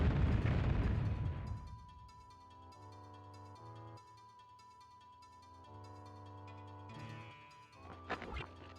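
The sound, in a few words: bomb explosions in video game Alundra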